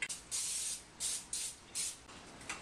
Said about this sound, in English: spray it really good with some nonstick spray